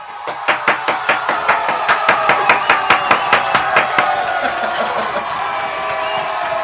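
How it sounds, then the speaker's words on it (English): A canned cheer sound effect set off from a button bursts out as crowd cheering and applause, with a rapid train of sharp claps rising and then settling into a dense, sustained roar. "Where's my cheer button?"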